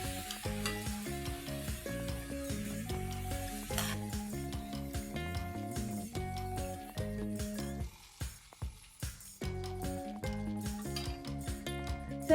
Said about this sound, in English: When you fry it for the second time, you don't have to fry it for long.